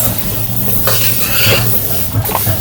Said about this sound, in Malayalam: പായസത്തിനുള്ള പരിപ്പ് നമ്മൾ വറുത്തെടുക്കുക